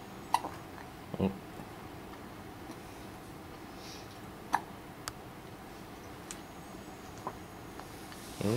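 A newborn baby hiccups, with a handful of short, sharp, isolated hiccups spaced irregularly across a quiet room, faint and close.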